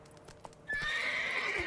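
Roach, the horse in The Witcher 3, gives a loud, sharp whinny that rises suddenly after a few soft hoof taps and holds to the end.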